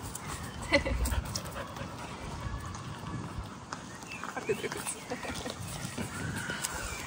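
A dog near a group of kids outdoors, heard as soft panting and quick scuffling movement mixed into a busy background, with voices and activity around it throughout.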